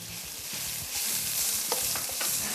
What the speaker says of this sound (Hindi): अब इसमें मैं डाल रही हूँ मशरूम्स।